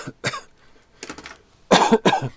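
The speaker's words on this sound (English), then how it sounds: "I'm so sorry about the coughing." Several harsh coughs in separate bursts, the last ones loudest and close, with short quiet gaps between them.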